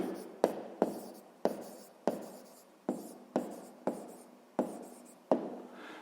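A pen writes by hand on paper while a sixth-grade maths exercise is worked out, making a steady series of sharp scratchy strokes, each tapering off, close and clear with no talk.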